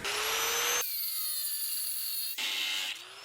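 A power saw cuts through 5/8-inch galvanized threaded rod, a loud, steady grinding whine in two bursts with a brief lower-pitched pause between them, close and without talk.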